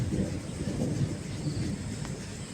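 Thunder from an evening rainstorm in a Pahadi mountain village, a continuous low rumbling roll with a steady wash of rain over it, dense and fairly loud throughout with no voices.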